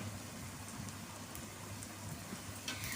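Chopped onions frying in a pan with turmeric powder, giving a steady, faint, rain-like sizzle and crackle with no talk.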